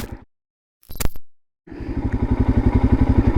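Royal Enfield Himalayan motorcycle off-road, a brief cut and clatter followed by the single-cylinder engine thumping steadily and loud nearby, pulses gradually swelling.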